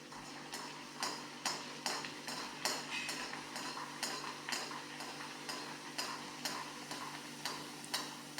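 Wheat-flour jaggery puri deep frying in hot oil, a steady bubbling sizzle broken by repeated sharp clicks and taps of a utensil against the pan, heard close and alone.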